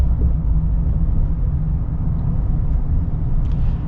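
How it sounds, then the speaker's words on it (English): Inside a moving 2024 Chevy Silverado HD High Country Duramax pickup, a steady low rumble of road noise mixes with a broad wind rush, loud and continuous, with no talking. "Now, being so high up in the air, you do get a little bit more wind noise."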